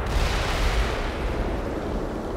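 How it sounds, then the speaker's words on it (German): Attack helicopter firing in the video game Black Mesa, a dense, continuous roar of rapid gunfire and blasts filling the whole clip at steady loudness, with no talk. "Mann, ich glaube, das ist der nervige Hubschrauber."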